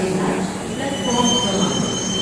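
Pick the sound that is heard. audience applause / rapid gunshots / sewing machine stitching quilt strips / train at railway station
train at railway station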